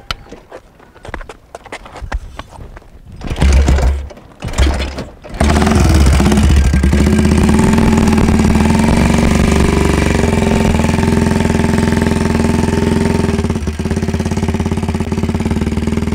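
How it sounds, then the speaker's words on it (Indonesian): After some scuffling and brief bursts, a motorcycle engine roars to life and revs loudly and steadily close by, holding a rough, throbbing drone. "Motor siapa sih geber-geber?"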